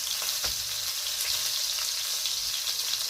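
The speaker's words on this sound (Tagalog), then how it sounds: "Talagay ko yung sibuyas." Onion sizzles in hot oil in a pan, a loud, even, close-up crackling hiss with a few faint knocks and no talking.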